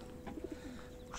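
Racing pigeons in a loft give a few soft, low coos, faint and close, over quiet background noise.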